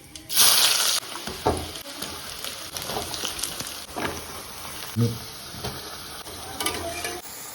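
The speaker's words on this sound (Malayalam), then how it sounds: "കടുക് പൊട്ടി" Mustard seeds crackle and splutter in hot oil for a shrimp roast, with scattered sharp pops and bursts over a soft sizzle.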